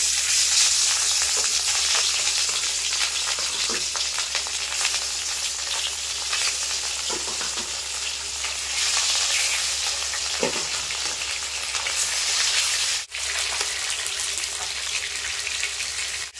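Pieces of rohu fish frying in very hot mustard oil, a steady dense sizzle that keeps up without a break, close and even, with a few soft clicks and pops and no voices.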